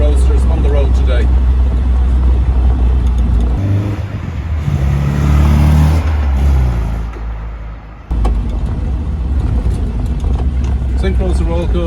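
A rebuilt 1968 MGB Roadster on a Heritage shell drives along with a loud, steady engine drone that swells as it revs up, dips briefly, then carries on, while someone talks over it.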